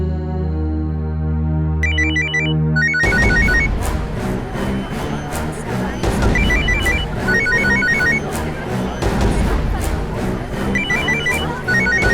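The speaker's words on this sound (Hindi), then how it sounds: "आप उठाइए अपना मोबाइल" A mobile phone rings with a loud electronic ringtone, a repeating melodic pattern over a thick backing beat that runs continuously for about twelve seconds, with no one speaking.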